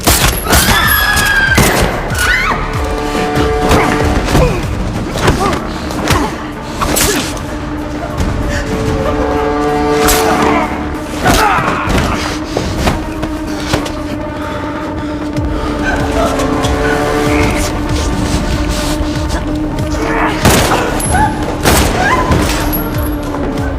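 Dramatic gunfire from a movie shootout at a hotel, with bursts of shots and heavy booming thuds over an ongoing tonal score, loud and dense throughout, the barrage fairly continuous.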